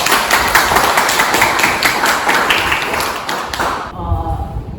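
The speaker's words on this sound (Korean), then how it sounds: "두 번째 책도 베스트셀러가 되시라고 큰 박수 부탁드리겠습니다." A live audience at a book talk applauds loudly, with dense, steady clapping that fills the room for several seconds and then stops abruptly.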